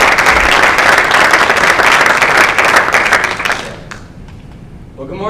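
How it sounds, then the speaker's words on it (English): Loud audience applause at a campus business plan competition, dense clapping from a crowd that runs for about four seconds and then quickly dies away into a quieter room. "So, a round of applause for David."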